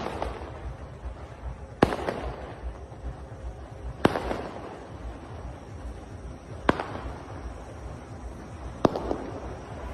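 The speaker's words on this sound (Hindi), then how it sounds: "भारत की हार का जश्न मनाया गया, पटाखे फोड़े गए" Firecrackers burst at a street celebration, four or five sharp cracks spaced a couple of seconds apart over a constant crackling, rumbling background of distant festivities.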